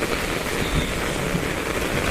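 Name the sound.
heavy rain falling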